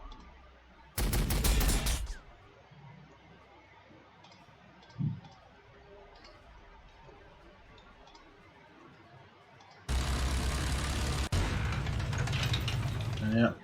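Two long bursts of heavy gunfire in the Warhammer 40,000: Sanctus Reach video game, loud and sustained, separated by a quiet stretch with a single short thud and faint mechanical ticks.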